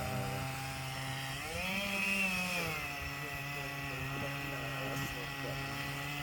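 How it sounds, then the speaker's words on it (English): A chainsaw cutting into a tree drones loudly and steadily up close, its pitch climbing briefly mid-cut before settling back, with faint talk underneath. "It's hard to talk over this chainsaw because it sounds so loud."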